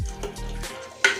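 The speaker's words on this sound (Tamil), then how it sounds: "உப்பு தேவையான அளவு போட்டுட்டு நல்லா வதக்குங்க" Chicken curry with salt sizzles and gets stirred in a pan, a soft frying hiss with a scrape of the spoon and a brief louder clatter near the end.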